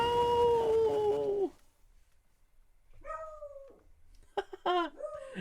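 A dog howls loudly at first, then after a quiet gap lets out shorter whimpering yelps and wavering cries close by.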